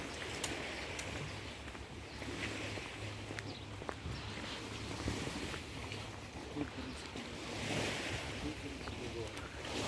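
Black Sea waves wash continuously along the shore at Arkadia in Odesa with a broad steady roar, mixed with wind noise and a low background hum.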